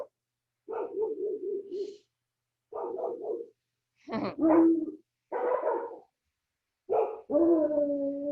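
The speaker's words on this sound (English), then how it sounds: "Here's the hound dog." A hound dog barks and bays in a string of loud, drawn-out calls separated by short pauses, some ending in long, wavering howl-like notes, heard close and alone in an indoor morning exercise session.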